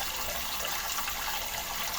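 Water pours steadily into a cooking pot for fish soup, a continuous splashing rush that stays even and close throughout, with no talking.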